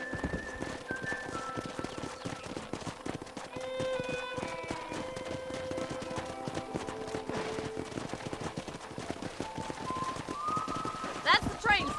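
Horse hooves clip-clop in a steady walking rhythm while riding in the video game Red Dead Redemption, moderately close and continuous under a soft outdoor ambience with occasional bird calls.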